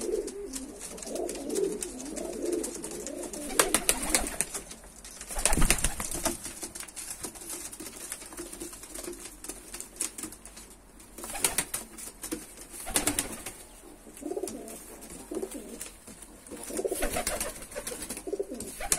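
Georgian fighting rock pigeons coo steadily in a loft near Tbilisi, with occasional bursts of wing flapping and fluttering over a busy background of bird sounds.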